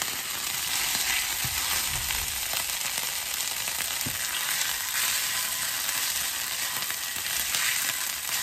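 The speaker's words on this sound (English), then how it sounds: "I'm gonna bring it down to a simmer." A salad dressing simmers in a pan as chicken legs cook, giving a steady, even sizzle and bubbling hiss that stays constant throughout with a few faint scrapes.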